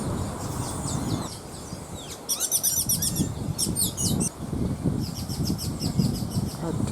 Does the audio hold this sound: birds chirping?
yes